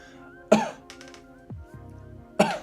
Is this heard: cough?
yes